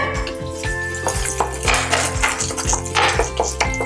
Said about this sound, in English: as you can hear, the vegetables are sizzling away